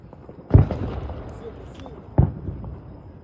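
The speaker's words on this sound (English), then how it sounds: "This is the first time I go under fireworks. Literally, it's on top of me." Fireworks burst directly overhead at a Fourth of July display, two loud booms about a second and a half apart, each trailing off with crackle.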